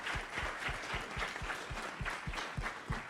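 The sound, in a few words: audience applause for the women panelists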